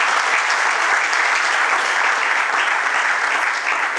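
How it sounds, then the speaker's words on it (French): Loud, dense applause from a gathered crowd at a civil wedding ceremony, sustained and steady for the full few seconds with no voices rising above it. "On acclame très fort, s'il vous plaît."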